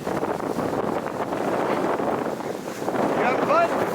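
Strong wind of about 20 knots roars steadily across the microphone aboard a sailboat moving at 8 to 9 knots, a loud, unbroken rush with a faint voice briefly audible near the end.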